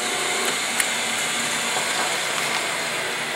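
A New Holland K90 spin dryer, an 18 by 18 inch metal-finishing unit with its heat switch on, runs steadily with a dense, even whir that holds constant at close range.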